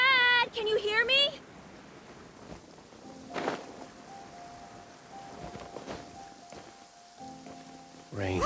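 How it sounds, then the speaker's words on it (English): Rain falls steadily in the Genshin Impact video game as a soft, continuous hiss, with a few isolated louder thumps; a character's voice speaks briefly at the start and game chimes sound near the end. "Rain."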